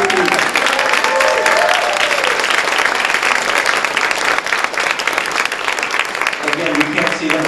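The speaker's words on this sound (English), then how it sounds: "I want everybody to give them a big round of applause and a big welcome." Crowd at an interfaith youth forum giving a loud, sustained welcome round of applause, dense clapping filling the whole stretch, with voices and cheers mixed in.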